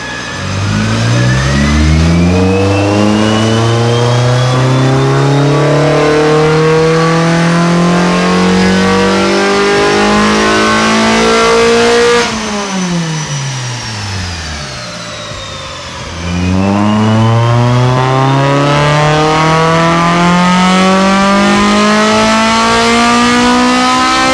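A Honda Civic Type R clone with a K20R engine revs hard on a dyno, its pitch climbing in a long pull, dropping off sharply, then climbing again in a second loud, close sweep with no talk.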